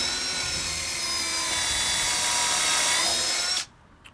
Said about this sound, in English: I'm going to use a drill, pre-drill a little bit.